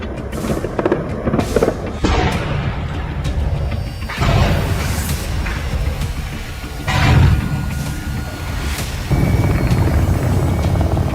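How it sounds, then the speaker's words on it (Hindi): Gunfire echoes through the city streets of Kyiv during battle, a series of sharp cracks and heavy booming bursts spread over several seconds, loud and reverberant with a rumbling background. "जिसके बाद कीव की सड़कों पर बस गोलियां ही गोलियां चलने लगी।"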